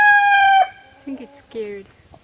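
A rooster crows loudly and close, followed by softer clucks from the chickens, with a faint voice in the background.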